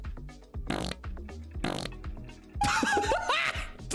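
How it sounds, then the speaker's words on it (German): Fart sounds played into a German livestream, a few bursts of squelchy noise and laughter-like effects mixed with the streamer's voice, fairly loud and close. "Hört auf, in immer Stream zu furzen!"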